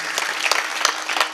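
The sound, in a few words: audience applause at a kirtan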